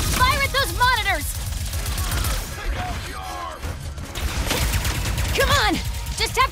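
Dense gunfire from Ratchet and Clank: Rift Apart rattles in rapid bursts against a monitor-covered boss, with chirpy whistling effects and game sounds layered throughout at close, loud range.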